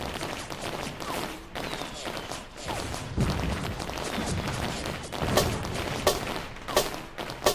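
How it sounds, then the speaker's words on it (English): Fireworks effect opening the intro of a hip-hop track, a run of loud crackling bursts and booming pops with sharp bangs near the end, layered over the song's dense backing. "we'll get into like these fireworks here"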